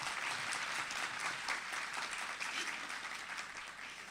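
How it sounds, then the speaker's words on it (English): Adult-education graduates clap at their commencement, a sustained round of applause from a large crowd that slowly fades, with some faint murmur beneath. "give yourself a round of applause"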